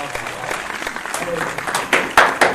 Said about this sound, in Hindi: जोरदार ताली से स्वागत करिए आप श्री वेदवर्धन जी का